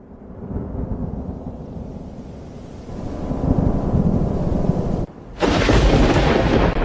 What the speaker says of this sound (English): the storm hit early